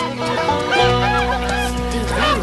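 Several geese honk repeatedly at close range, their nasal calls overlapping above a steady low background hum.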